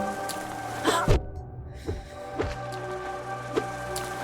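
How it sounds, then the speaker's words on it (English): Rain falls on the roof directly above a top-floor condo, a steady soft patter with occasional sharper drops, under tonal game music and with a faint breath. "I can hear the rain as it hits like the roof above me"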